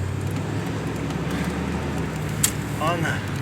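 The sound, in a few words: car with QuadraJet carburetor driving on a test drive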